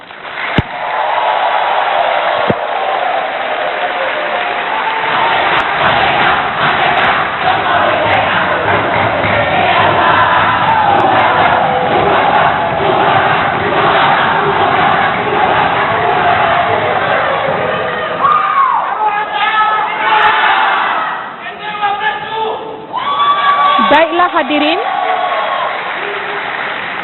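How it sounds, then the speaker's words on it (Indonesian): Audience at a televised Indonesian candidate debate applauds and cheers in a loud, sustained crowd roar for about eighteen seconds, then fades as a host resumes talking over scattered claps. "terima kasih atas tepuk tangannya"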